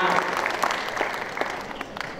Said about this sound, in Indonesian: Mohon tepuk tangan yang meriah untuk Pak Gubernur.